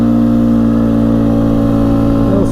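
A 2004 Polaris Scrambler 500 4x4 ATV engine running loud and close, a steady mid-pitched engine drone with a brief rising rev at the end.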